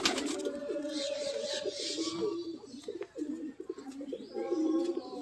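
Pet pigeons, a mix of local birds and fantails, coo steadily inside their enclosure, a continuous low burbling chorus heard close up with faint chirps in the background.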